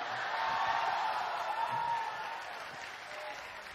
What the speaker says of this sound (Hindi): ये तालियां मेरे लिए नहीं है